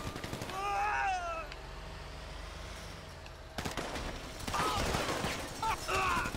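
Gunfire rings out in the video game GTA 5 Online. Rapid bursts and volleys of shots, some like machine-gun fire, come in clusters over game background noise.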